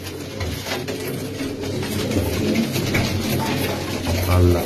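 Pigeons and doves kept in a loft coo continuously, producing a dense, layered murmur of soft throaty calls, loud and close, with faint background voices.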